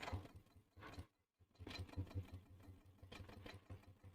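A sewing machine runs in a fast, even mechanical hum while top stitching the sides of a fleece crossbody bag at a long stitch length, with one brief stop partway through, quiet and close.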